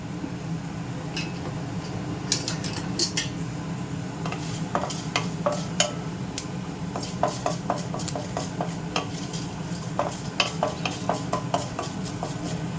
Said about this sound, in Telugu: ఇలా ఒకసారి మినపప్పు కొంచెం వేయించుకోండి